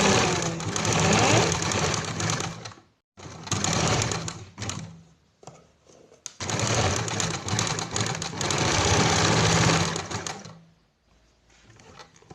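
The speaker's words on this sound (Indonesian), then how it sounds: "Mulai kita jahit guys." Sewing machine stitching a piped (bound) buttonhole through the main fabric and lining: loud, steady mechanical whirring in bursts of a few seconds, broken by short pauses, close up with no talk.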